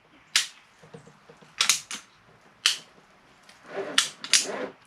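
A jerky gun is pumped in several sharp mechanical clicks and squeaks, irregularly spaced, close and distinct, with short bursts of ratcheting as air is pushed out of meat for dog treats.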